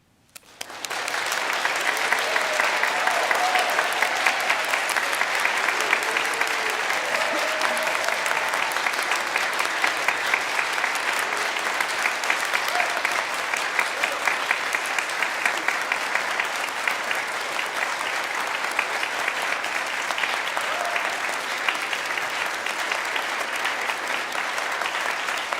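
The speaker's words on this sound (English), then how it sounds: "I invite you to offer from your heart to Cassie's heart a heartfelt round of applause and appreciation" A congregation at a worship service applauds warmly for Cassie, the clapping rising quickly and holding as a full, sustained round that continues evenly for a long stretch.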